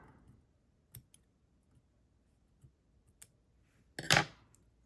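Scissors trimming thread during fly tying make a few sharp, faint clicks and snips scattered across a quiet background, ending in a slightly longer, louder cut.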